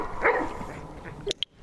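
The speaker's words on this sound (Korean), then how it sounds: "저기서 강아지가 짖으면서 지금 흥분도를 높이고 있는데도" A dog barks a few times a short way off, sharp yelps standing out near the end of an outdoor scene during a dog walk, with a low steady background beneath.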